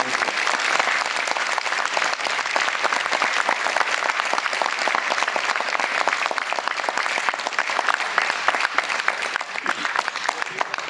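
An audience at a business success seminar in Chhattisgarh bursts into dense, steady applause that goes on for several seconds at an even, loud level.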